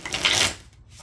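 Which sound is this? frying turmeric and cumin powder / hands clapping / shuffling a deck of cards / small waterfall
shuffling a deck of cards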